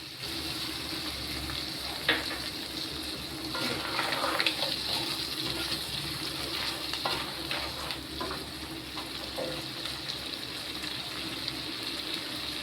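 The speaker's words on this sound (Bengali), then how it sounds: "এবার আমি যে নারকেলের দুধটা বানিয়ে রেখেছিলাম, আমি এটা দিয়ে দিচ্ছি।" Coconut milk hitting a hot frying pan, giving a steady broad sizzle with faint liquid splashing and scattered stirring clicks, sustained at an even level with no talk.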